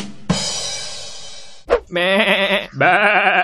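A goat bleats three times up close: one long wavering cry, then two shorter quavering bleats in quick succession.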